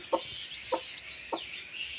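A hen with her newly hatched chicks gives three evenly spaced soft clucks, close by, over a continuous thin high peeping.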